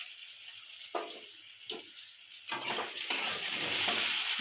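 Diced potatoes hit hot oil, flavoured with five-spice seeds and bay leaf, in a pan for a fish, pointed gourd and potato curry. A sudden loud sizzle builds into steady frying with stirring scrapes.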